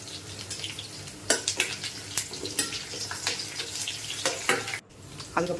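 Cashews, green chilli and curry leaves fry in hot oil for a pepper pongal tempering. A loud continuous sizzle runs under repeated sharp clacks and scrapes of stirring in the pan, close up, with one brief pause near the end.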